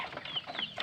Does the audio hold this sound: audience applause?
no